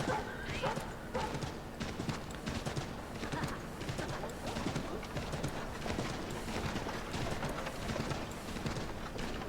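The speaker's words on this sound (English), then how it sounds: "Vocês tinham lembrança de cavalo no Assassin's Creed 3?" Horse hooves in Assassin's Creed III clip-clop in a dense, steady running rhythm, close and prominent, with game ambience and occasional voices underneath.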